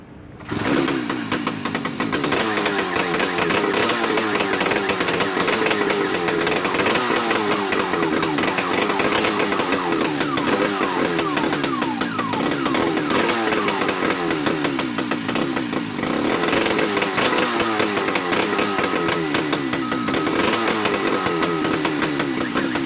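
A Buran snowmobile's RMZ-640 two-stroke engine catches almost immediately and runs steadily, a loud buzzing, rattling drone that stays constant for over twenty seconds with no talk.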